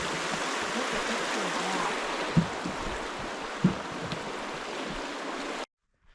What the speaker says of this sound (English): we're crossing a pretty little stream with beautiful colored rocks in it